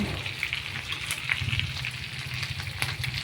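Chicken grilling on a grill pan, a steady close crackling sizzle with scattered pops and spits running throughout.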